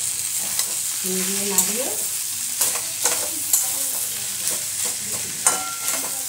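Spiced masala for a Bengali fish-head charchori sizzles in a pan while a spoon scrapes and stirs in steady strokes, close and fairly loud, with someone speaking briefly over it.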